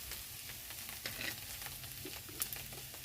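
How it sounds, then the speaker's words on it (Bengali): Nigella seeds tossed into hot cooking oil sizzle in a faint, steady crackle with scattered small pops, close up and with no talking. "তো ওখানে তেলের মধ্যে দিয়ে দিচ্ছি কালো জিরা"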